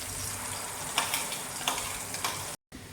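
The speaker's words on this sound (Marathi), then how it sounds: "गरम तेलामध्ये आपण कांदा आणि कढीपत्ता यांची पेस्ट टाकल्यानंतरून असा फेस आला" Onion and curry leaf paste fries in hot oil with a steady close sizzle and a few louder pops. The sound cuts out briefly near the end.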